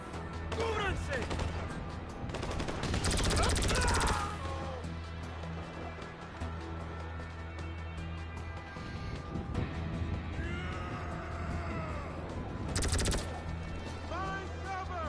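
Laser gun fire in Grand Theft Auto, bursts of zapping shots packed around the start and again near the end, loud over game voices shouting and a low steady hum throughout.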